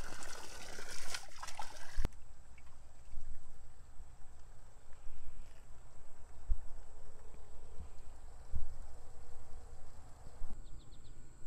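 Garden pond water drains out through a tube, a faint steady trickle and gurgle close by, with soft knocks and a brief louder rustle at the start.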